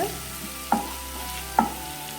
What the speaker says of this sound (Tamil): வெங்காயம் நல்லா கலர் சேஞ்ச் ஆகிற வரைக்கும் வதக்கி விட்டுக்கோங்க